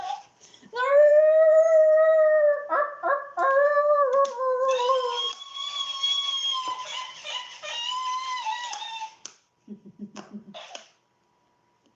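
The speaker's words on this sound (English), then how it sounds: "it sounds like it's a wolf that's like in distress and can't howl properly" A toy gives a strained, wavering wolf-like howl, rising and breaking into choppy bursts before fading, followed by a short buzzy electronic stutter.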